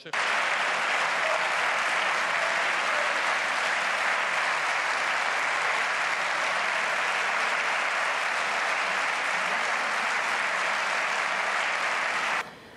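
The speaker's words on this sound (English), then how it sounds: "Massive applause in the audience in the Spanish parliament" Sustained, loud applause from a large crowd in the Catalan parliament chamber, dense and steady throughout before cutting off abruptly.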